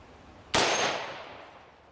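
A green tip rifle round strikes a titanium plate in a single sharp, loud crack that rings and decays over about a second and a half in open air.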